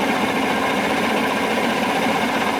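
A 1987 Johnson 70 hp outboard engine idles steadily on the water, giving off a continuous, even drone with no breaks, loud and close, and no one speaking over it.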